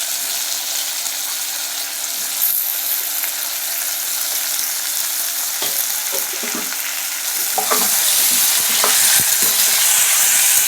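Brinjal palya vegetables with tomato and carrot stirred in hot oil in a pan, a steady close sizzle with scraping spoon strokes that grow louder and busier toward the end; no voices.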